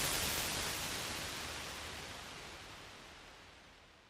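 A reverb impulse response recorded in the Taj Mahal: a long reverberant wash of noise decays slowly and smoothly, like the tail of a vast stone hall, fading gradually toward silence.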